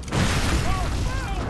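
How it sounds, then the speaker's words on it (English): Enemy gunfire and booming blasts in the dark action game Bloodborne, with enemies shooting at the player; dense, loud bursts crowd the whole moment, one after another. "They're shooting you."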